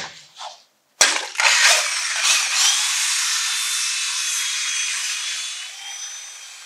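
A handheld drill-driven paddle mixer blends GFRC concrete premix with water, starting abruptly with a loud continuous whirring grind that stays steady and close throughout, with no talk over it.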